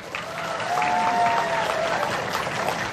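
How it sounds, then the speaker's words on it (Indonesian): An audience at a community event in Karangsong, Indramayu claps together in a short burst of applause, moderately loud and sustained for a few seconds. "Coba kalau tepuk tangan buat saya."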